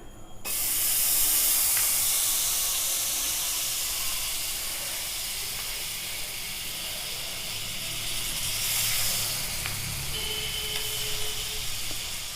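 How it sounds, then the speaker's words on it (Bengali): Butter hits a hot kadai and hisses steadily, a bright continuous sizzle that starts abruptly and carries on loud for the whole stretch, swelling slightly near the end, with no talk. "কড়াটা গরম হয়ে গেছে, এতে আমি বাটার দিয়ে দিলাম।"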